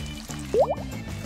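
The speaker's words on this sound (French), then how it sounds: "Nous ajoutons un peu de gelée verte au slime bleu d'eau." Green jelly is squished into blue water slime, giving a short, wet plopping squelch that stands out briefly over a quiet background.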